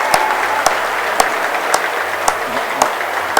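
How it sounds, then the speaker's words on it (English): Applause rings through an indoor venue at a men's open indoor cricket grand final between Queensland and ACT, a dense close clapping crowd with a few sharp louder claps at a steady pace. "they've just demonstrated that they've got a side for the future as they applaud their audience"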